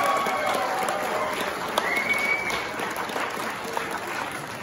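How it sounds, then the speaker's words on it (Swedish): An audience at a blues band concert applauds in a steady, dense burst, with scattered crowd noise mixed into the clapping. "Jag tycker att ni ska ge brorsan en separat applåd."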